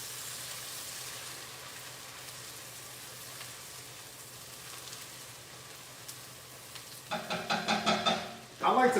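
Ingredients for gumbo sizzle and caramelize in a pot, a steady low frying hiss under faint background, then louder bursts of stirring and scraping near the end.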